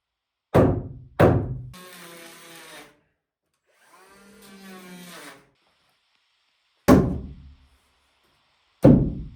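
Heavy, resonant hammer blows on wood while building log cabin basement stairs, two close together, then a power tool whine in between, and two more spaced-out strikes.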